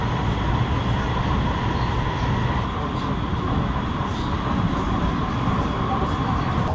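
Inside a Chongqing metro train heading to the airport terminal station, a steady loud rumble and hum of the car rolls along the track, with faint chatter from passengers.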